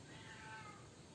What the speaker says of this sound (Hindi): बिल्ली चिल्ला रही है ना